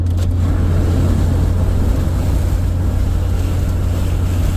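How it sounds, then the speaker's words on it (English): Loud, steady wind buffeting and road rumble inside a first-generation Honda CR-V cruising at 60 with the windows down, a constant low drone with a strong low hum and no talking. "That's a lot of wind"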